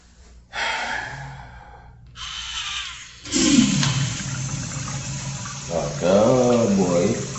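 A repaired urinal flushes close by, starting with a sharp rush of water that settles into a steady gurgling flow. Breathy vocal sounds are heard over the running water toward the end.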